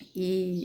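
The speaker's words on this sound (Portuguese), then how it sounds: "vocês estão ouvindo o galo cantar e os passarinhos também" A single low, smooth dove coo, close and fairly clear, lasting about half a second near a house.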